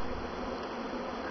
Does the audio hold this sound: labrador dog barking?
no